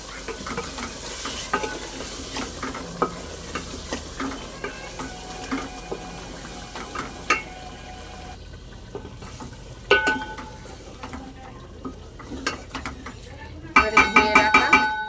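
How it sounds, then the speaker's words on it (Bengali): Chana dal is stirred and sautéed with potatoes in a pan for vegetarian khichuri: a steady low sizzle under repeated scraping and clinking of a spoon against metal, with a brisk rattling burst near the end. "এবারে ছোলার ডালটা দিয়ে দেবো, দিয়ে আলুর সঙ্গে একটু ভালো করে কষিয়ে নেব"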